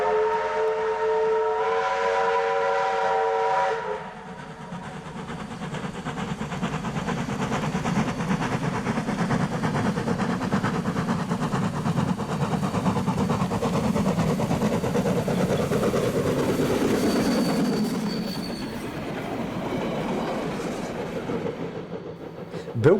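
A 1909 A&G Price-built A428 steam locomotive on the Weka Pass Railway sounds a loud, harmonic whistle for about four seconds, then the steady chuffing and rolling rumble of the running train carries on beneath.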